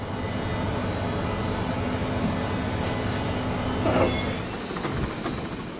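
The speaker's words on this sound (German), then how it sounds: "Daher werden die beiden Dieselloks hier von einer E-Lok abgelöst." A train on the Marschbahn, hauled by an electric locomotive toward Hamburg, gives a steady, fairly loud rolling rumble, swelling briefly midway as it passes, with no voices.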